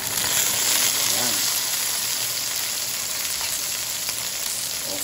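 Tomatoes sauté with garlic, onion and other aromatics in a hot pan for squid adobo, giving a loud, steady close-up sizzle and frying crackle. A voice speaks faintly underneath.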